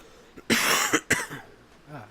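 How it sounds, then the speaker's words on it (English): A person coughing indoors in a room: a loud, close burst of two harsh coughs in quick succession, followed by a quieter breathy tail. "Now I'm coughing."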